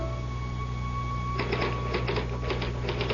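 A typewriter clacks in a radio drama, with a quick run of mechanical strikes over a steady hum and background tone, starting partway through and continuing in short bursts.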